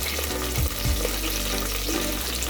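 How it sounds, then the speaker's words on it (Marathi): Ghee sizzles in a pan while rajma is being cooked, giving a steady, dense frying hiss throughout with a few soft stirring knocks, close and continuous with no talking. "त्याच्यामध्ये थोडंसं असं वरून 1 चमचा तूप घालूया."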